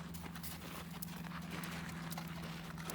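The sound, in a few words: horse hooves on ground while riding, coming out of canter to trot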